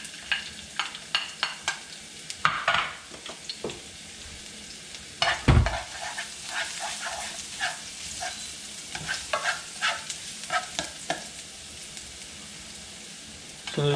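Garlic sautéing in hot oil in a pan for kare-kare pata, a steady sizzle broken by repeated scraping stirs and a few louder clatters of a utensil against the pan, with no voices.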